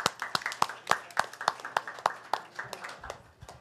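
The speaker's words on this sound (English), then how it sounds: "So, an applause for her." Audience at a chapters and members meeting clapping in thanks for the meeting chair, a light, scattered round of distinct hand claps in a steady rhythm, moderately close and fading slightly toward the end.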